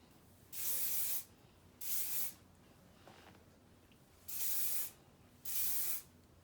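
Four bursts of aerosol hairspray hissing from a can, each about half a second to a second long, close and loud, with quiet pauses between.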